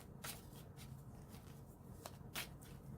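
Tarot cards being shuffled by hand, several quick riffling bursts of card edges with soft handling noise between them, close up and alone with no talking.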